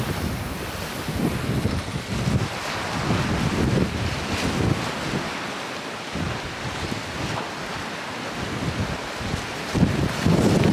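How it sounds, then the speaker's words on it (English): Steady wind roaring across the microphone with the wash of surf behind it on the UK coast during a very big tide, continuous and fairly loud throughout, no voices. "It's windy."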